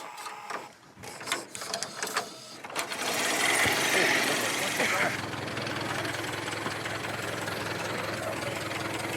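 A Model T Ford engine is hand-cranked and catches, settling into a steady mechanical chugging with a buzzing ignition-coil whine, after a few clanks and voices at the start.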